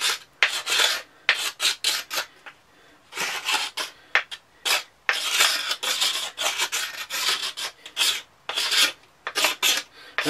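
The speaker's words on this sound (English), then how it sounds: "That's just taking off little slivers now, or like shavings." A knife shaves thin slivers off a wooden survival bow. The scraping comes up close in short, rasping strokes separated by brief pauses.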